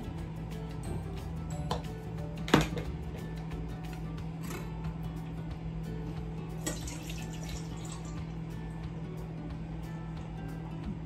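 Water from a young coconut drains and trickles steadily into a container in a home kitchen, a soft continuous pour with a few sharp clicks and knocks along the way.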